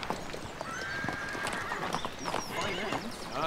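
Horse hooves clip-clopping with a neigh, set in a period drama about an equestrian visit to Ireland, the hoofbeats and whinny heard amid talk and background bustle.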